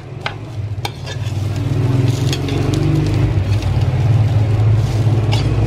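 Rice stirred into vegetables frying in a pan, a steady close sizzle with scraping spatula strokes and occasional sharp clinks of metal on the pan.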